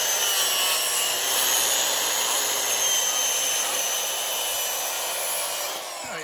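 A circular saw rips lengthwise through wood boards being cut into pieces for a ramp on a 1992 Dodge D350 Cummins truck, giving a loud, steady, close-up whine and rasp that holds for several seconds before easing off near the end.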